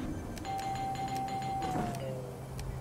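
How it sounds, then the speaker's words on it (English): A doorbell chimes in the video game Fortnite, one long steady electronic tone held for about a second and a half before it dips, over a busy game background with clicking sounds. "ring the doorbell until it breaks."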